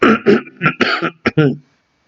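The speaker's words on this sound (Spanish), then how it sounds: "Me disculpo por la tos" A series of harsh, close coughs and throat-clearing bursts, about six in a row, loud and then silence.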